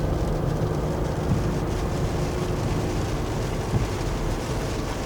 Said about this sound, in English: it's starting to rain cats and dogs now.